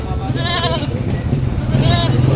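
Goats bleat at a Philippine livestock market where cattle, goats and carabao are sold, with two or three nearby wavering calls rising over steady background chatter of people talking.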